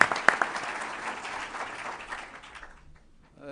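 An audience applauds a speaker being welcomed at a business-school session, dense clapping from a crowd close and steady before fading away toward silence at the end.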